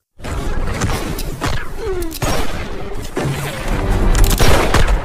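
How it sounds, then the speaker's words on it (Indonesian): Rapid bursts of gunfire crack back and forth amid booms and whooshes, a dense, loud exchange of shots with no pauses. "Baku tembak pun terjadi."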